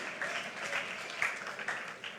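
A church congregation breaks into brief applause, a soft scattered clapping with a few sharper claps, fairly distant.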